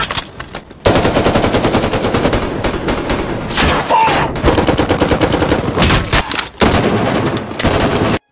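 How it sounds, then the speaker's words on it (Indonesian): Dense automatic gunfire from a gunfight between armed bank robbers and police in Los Angeles, with loud, rapid bursts and overlapping shots filling the scene almost continuously and a brief drop near the start and middle. "Dan baku tembak pun terjadi."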